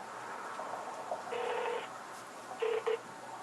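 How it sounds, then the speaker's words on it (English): Touch-tone telephone dialing beeps, a few short tones sounding in quick succession, fairly quiet against a faint background hiss while a vote is being phoned in. "Okay, guys, I'm about to call for Jake"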